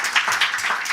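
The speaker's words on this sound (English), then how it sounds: "And a big applause, please, for Mette and Mette." An event audience claps for two presenters taking the floor, a brief spell of many hands clapping together in uneven bursts with no voices.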